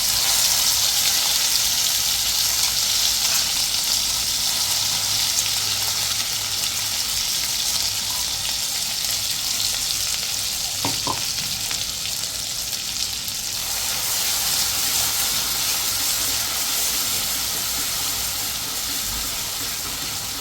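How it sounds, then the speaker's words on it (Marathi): Masala paste of ground spices, with cumin seeds, frying in hot oil, giving a steady, loud broadband sizzle that hisses continuously with only slight swells and one brief clink partway through. "तेलामध्ये आपला जो वाटण आहे ते एकदम छान मस्तपैकी परतून घ्यायचं आहे।"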